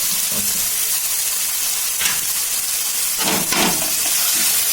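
Onions sautéing with tomato, ginger and garlic in a pan for goat offal thokku, giving a loud constant sizzle with a few brief clatters of stirring.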